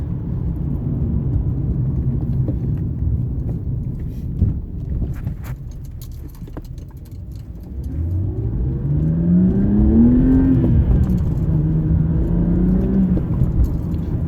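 A BMW E90 3 Series (325i/328i) engine fitted with an aFe Magnum Force Stage 2 cold air intake idles with a rough, throaty rumble, then revs up and down twice in loud, rising and falling surges.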